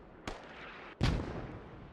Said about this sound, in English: So he wants to get out of where the mortars are landing